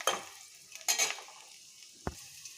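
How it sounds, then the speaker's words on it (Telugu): Bitter gourd fries in oil over a medium flame in an Andhra-style kitchen, quiet sizzling punctuated by a few brisk scraping stirs and a sharp utensil knock against the pan. "ఇలా కలుపుకుంటూ ఫ్రై చేసుకోవాలండి."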